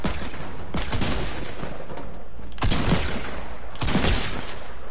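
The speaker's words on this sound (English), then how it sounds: "Why did you shoot me again?" Gunfire in the video game Fortnite comes as three loud, sharp bursts of shots spaced a couple of seconds apart, each ringing out over a continuous low game background.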